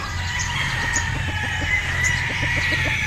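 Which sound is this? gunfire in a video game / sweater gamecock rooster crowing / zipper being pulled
sweater gamecock rooster crowing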